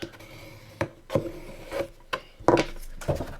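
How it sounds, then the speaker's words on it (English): Paper of a large round-handle gift bag being pressed and burnished along its fold, several short dry rubbing scrapes and taps at close range, alone with no talk. "just touch it so it goes together, and come in here and burnish it down"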